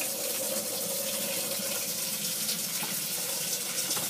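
Water pours steadily into a mash tun while brewing a SMaSH beer, a continuous, fairly loud rushing gush with no talk over it.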